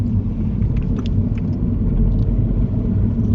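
A car engine runs at a low, steady rumble during a driving lesson, heard from inside the cabin as it moves at moderate speed, with faint light clicks and no voices.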